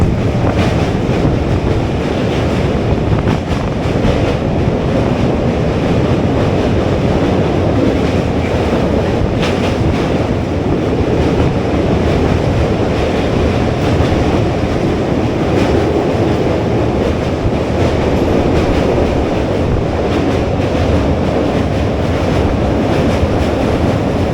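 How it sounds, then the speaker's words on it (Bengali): A passenger train crosses the Hooghly River on the Jubilee Bridge, heard as a loud, unbroken rumble and rush with heavy wind buffeting the microphone throughout and no voices. "জুবিলি ব্রিজ দিয়ে হুগলি নদীটাকে পার করে আমাদের ট্রেন উত্তর চব্বিশ পরগনাকে পেছনে ছেড়ে হুগলি জেলায় প্রবেশ করে যায়"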